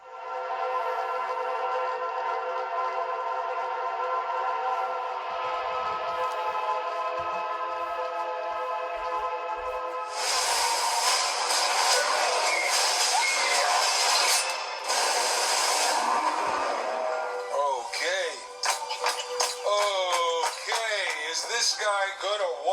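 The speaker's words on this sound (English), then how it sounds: "So the sound you're hearing is the projector's internal speakers." Movie trailer audio plays through the small built-in speakers of an Aurzen ZIP tri-fold home cinema projector, with sustained music, dialogue and busy effects filling the mix continuously at steady loudness.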